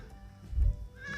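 A goat on a farm gives a short bleat after a muffled thump, brief and fairly close.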